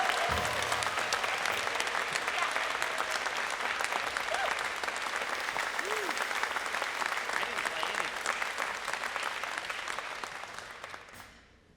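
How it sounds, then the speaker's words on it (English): A crowd at a high school jazz band spring night club concert claps for the band director in a sustained round of applause, with faint voices and whoops mixed in, fading out at the very end. "can we just give a huge round of applause to Mr. Dean for all the work he's done"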